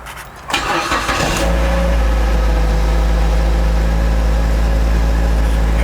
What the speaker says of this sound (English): Now we're going to crank the car up.